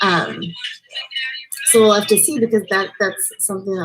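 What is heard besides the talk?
No distinct noise like a dog, phone or traffic.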